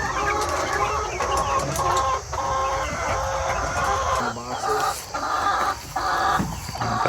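Many chickens and roosters cluck and squawk together nearby, a busy continuous barnyard chorus with occasional louder calls.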